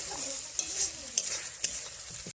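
Fish curry spice paste stir-fried with salt in a pan, a steady close sizzle broken by a few sharp scraping strokes of the spoon, heard alone without speech.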